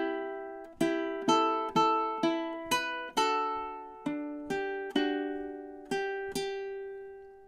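Ukulele plays measures 5 and 6 of a song, about a dozen crisp plucked notes in an even, steady rhythm, quiet and close with each note decaying, no voices.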